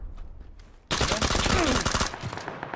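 Gunfire in PUBG (PlayerUnknown's Battlegrounds) squad gameplay: after a quiet start, a loud burst of rapid automatic shots erupts and continues for over a second.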